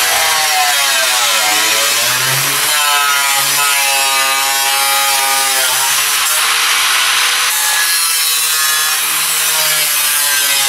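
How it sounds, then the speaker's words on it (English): Body metal on a Mercedes G-wagen being cut in a rectangle for a patch repair: a loud, continuous screeching, whining cut with shifting pitch that runs unbroken throughout. "I'm gonna cut out a nice even square or a rectangle so I can make my patch."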